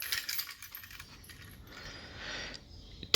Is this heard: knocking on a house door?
no